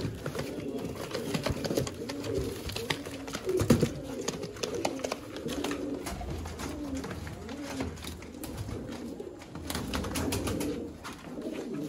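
Several pigeons coo together in continuous, overlapping throaty calls, close and moderately loud, with some handling bumps and shuffling noises mixed in.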